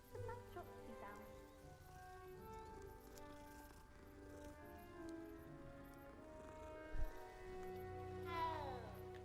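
A cat meows in the video game Hogwarts Legacy. The meows are faint and soft, set against quiet game music and a low rain-like background.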